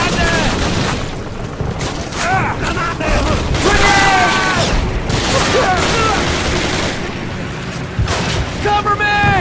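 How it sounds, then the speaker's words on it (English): Explosions and gunfire from a Call of Duty 1 battle, with broadband blasts and bursts of shots throughout, loud and dense under overlapping voices calling out. "I heard him throw a grenade. Watch out!"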